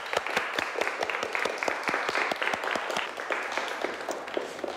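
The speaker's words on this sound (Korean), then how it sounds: "그럼 오늘 여기 와주신 두 선배님들에게 감사의 박수 부탁드릴게요" A small audience at a Seoul National University industrial engineering talk claps in thanks for two visiting alumni, with crisp individual claps in a quick, somewhat uneven rhythm, moderately close and fairly quiet.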